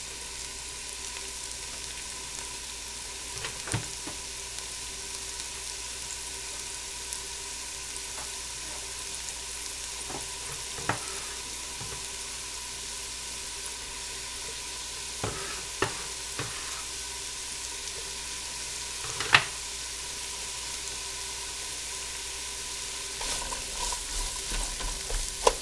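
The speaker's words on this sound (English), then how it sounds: "after the oil starts to get warm, put in your carrots, celery, and onions." Carrots, celery and onions frying in warming oil give a steady, quiet sizzle, with occasional soft clicks and scrapes of stirring scattered across it and no talking.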